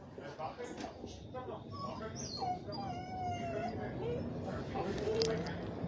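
A dog howls and whimpers in drawn-out, wavering cries over a noisy background, moderately close.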